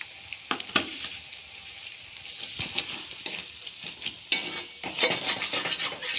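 Spice masala with salt and turmeric being fried and stirred in a pan, with a steady hiss of sizzling oil under irregular scrapes and clinks of a spoon against the pan, which grow busier near the end. No one speaks.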